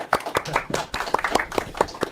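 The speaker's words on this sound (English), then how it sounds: "Clap it up. Clap it up." A small group claps in a loose, uneven rhythm after a debate segment among basketball fans, with distinct individual claps close by and some chatter mixed in.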